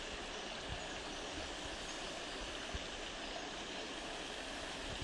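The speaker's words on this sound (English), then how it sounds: "The flow of the sounds of the water" Stream water flows through a forest among yew trees, a steady, faint wash of rushing noise with no break and no voices.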